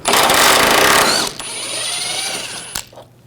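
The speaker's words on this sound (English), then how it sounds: "Using an 18mm socket, take this bolt out." A control arm bolt on a 2009-2017 Volkswagen Tiguan being removed with an 18mm socket: a loud, harsh power-tool whir for about a second, then a lower mechanical hum and a sharp metallic clank near the end.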